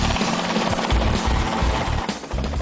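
Helicopter rotor thumping steadily with broadband turbine roar, loud and close throughout, no voices.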